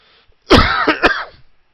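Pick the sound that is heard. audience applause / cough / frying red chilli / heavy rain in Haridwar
cough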